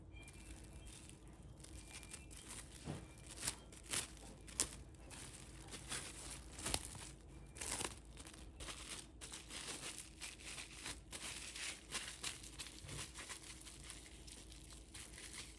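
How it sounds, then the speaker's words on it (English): Plastic wrap crinkles and rustles faintly in quick irregular bursts as it is wrapped around a ball of homemade apple pie crust dough, soft and close with no other sounds. "I'm just going to grab some of this plastic wrap here, and I'm just going to wrap my dough"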